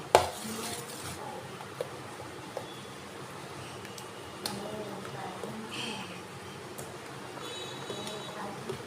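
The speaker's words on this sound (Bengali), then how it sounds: "মৌরি দেব, গোলমরিচ গুঁড়ো দিয়ে দেব। দিয়ে এটা ভালো করে মিশিয়ে নেব।" A spoon stirs rice batter made from Gobindobhog rice and coconut, with fennel seeds and ground pepper mixed in, giving faint, soft scraping and occasional light clicks against the bowl over low background noise.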